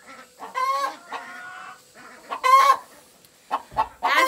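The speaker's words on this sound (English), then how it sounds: "So this pen has laying hens in it." Laying hens of mixed ages cluck and squawk in a backyard coop pen, with several loud, close bursts of fowl calls broken by short pauses.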